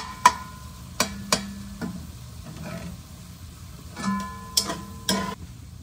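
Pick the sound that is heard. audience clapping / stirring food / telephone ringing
stirring food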